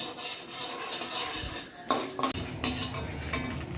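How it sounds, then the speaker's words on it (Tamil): Rice and two dried red chillies dry-roasting in a pan without oil, a soft rustling rasp that turns into louder scraping and metallic clinks of a spoon stirring against the pan, close and without speech. "இதை நல்லா நம்ம எண்ணெய் போடாமல் வறுத்து எடுத்துக்கலாங்க"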